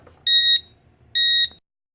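A fire alarm on an electronics demo board emits two short, identical electronic beeps about a second apart, loud and clear with nothing else audible.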